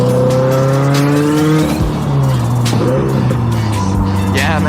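A 350 whp turbocharged Subaru BRZ running on E85 is driven hard, its engine note rising and falling through gear changes, with small exhaust pops crackling over the loud, close drone.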